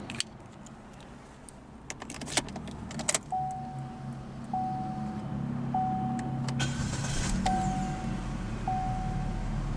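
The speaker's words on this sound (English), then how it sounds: "let's go ahead and start the engine" Inside a 2018 Chevrolet Spark 1LT, keys jingle and clatter, a repeated electronic chime sounds, then the engine cranks and settles into a low, steady hum.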